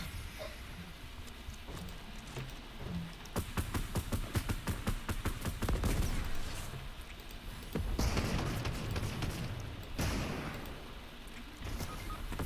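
Bursts of rapid video game gunfire and thudding impacts in a French multiplayer shooter session, steady and moderately loud, with ambient game noise throughout and repeated volleys.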